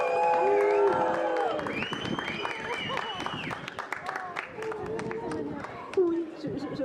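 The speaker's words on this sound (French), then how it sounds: "On peut applaudir, s'il vous plaît." A theatre audience in Saint-Nazaire applauds with a scattered patter of clapping, while raised voices and cheering ring out loudly over it.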